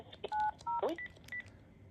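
Keypad tones from a Panasonic KX-TG1062 cordless phone handset: a few short, clear dual-tone beeps in quick succession, mixed with brief chirps, close and fairly loud against a faint room hiss.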